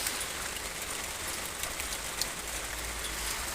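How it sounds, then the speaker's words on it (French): Hail pours down in a heavy shower, a dense, continuous hiss and patter of many small impacts spread evenly through the whole stretch, steady and fairly close, with no voices. "là il y a une belle averse de grêle de mon côté"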